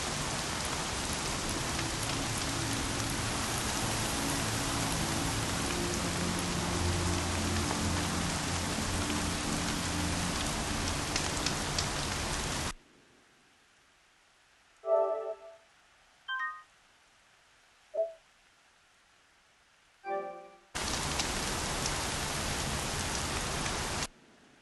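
Heavy rain pours steadily in the Horizon Zero Dawn video game, a dense loud hiss that drops out midway to near silence broken by a few short tones before the downpour returns.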